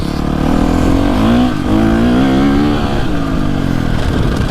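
A 2025 KTM 350 SXF four-stroke dirt bike being ridden, its engine droning loudly with rising and falling revs as the rider rolls the throttle on and off, steady and close.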